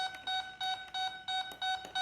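A Dynam PT-17 RC biplane's electronics beep as they initialize after throttle calibration, giving a clear electronic tone repeated about seven times in a quick, even rhythm, close and fairly loud.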